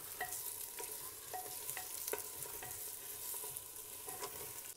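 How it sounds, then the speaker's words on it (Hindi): Chicken pieces sizzle and fry with golden onions in a handi, a steady crackle with repeated stirring scrapes throughout, close and alone with no voices. "अब हम इसमें चिकन ऐड करेंगे और चिकन का कलर चेंज हो जाने तक हम इसको फ्राई करेंगे"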